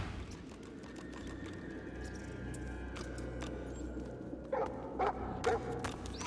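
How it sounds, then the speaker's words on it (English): Hellhounds bark in a Divinity: Original Sin 2 game scene, several sharp yelps arriving late over a steady low ambient rumble and drone, fairly close but not loud. "Holy hellhounds. Those dogs sound out for blood."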